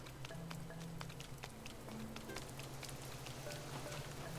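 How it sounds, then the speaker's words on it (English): Rain falling in Animal Crossing, a soft steady patter of drops on surfaces with scattered crisp ticks over a low constant hiss. "the rain's letting up a little bit"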